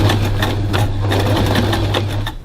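A sewing machine stitches a bag seam in a steady rapid needle-punching rhythm with a motor hum, loud and close, alone, stopping near the end.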